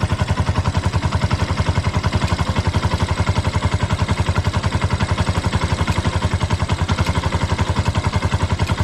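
Motorcycle engine idling steadily after starting on a weak battery, a close, loud, even rapid putter with a slight mechanical clatter, running alone without talk.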